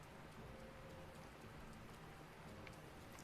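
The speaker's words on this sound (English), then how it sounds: "We've really been rained out the whole time." Rain in the video game The Legend of Zelda: Breath of the Wild, a faint, steady hiss of falling drops pattering evenly on surfaces, continuous and alone without speech.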